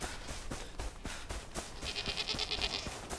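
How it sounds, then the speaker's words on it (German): Sheep bleating in a video game, a single drawn-out bleat rising over steady game ambience and clicking footsteps. "Oh, Schaf."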